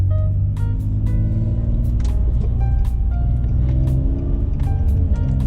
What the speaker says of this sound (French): Je vais remonter la fenêtre à cause que mon moteur il est très loud